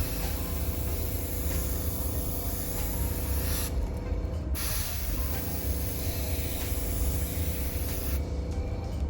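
Airbrush spraying blue paint onto Nike Air Max 270 sneakers for a custom job, a steady close hiss of compressed air running without pause, with brief dips in the upper hiss as the trigger eases.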